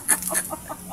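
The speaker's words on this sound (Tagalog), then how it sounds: "Manok" A chicken clucks in quick short bursts at a Filipino house, close and clear, a few choppy calls in about a second with no talking.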